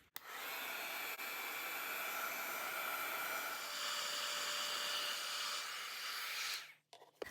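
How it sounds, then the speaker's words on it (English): A heat gun runs steadily for several seconds, a loud broad blowing hiss with a faint whine, used to erase marks on a painted LOKLiK iPaint canvas, then cuts off. "I'm going to use the heat gun to erase right here the marks"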